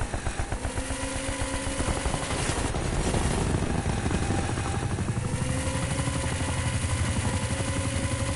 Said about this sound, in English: Hostile attack chopper inbound.